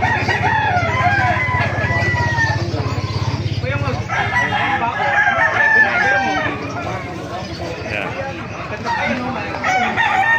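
Rooster crowing from a sinibalang fighting cock about two years old at a poultry market in Bocaue, loud and close, with other fowl clucking and calling around it and someone talking over parts of it.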